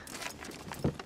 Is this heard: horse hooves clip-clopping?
yes